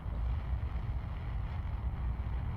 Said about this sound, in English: Listen to the roar of those engines.